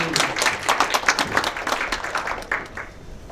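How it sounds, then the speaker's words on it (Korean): A crowd applauds steadily, a dense patter of many hands clapping that holds for a few seconds before tapering slightly. "박수 한번."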